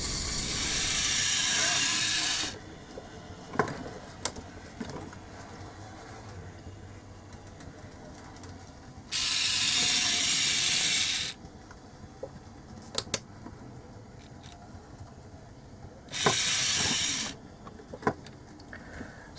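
A Jouef Playcraft Decauville 0-4-0 model locomotive runs on a shuttle layout, a low steady motor whir with light rail clicks, broken up three times by long bursts of loud hissing.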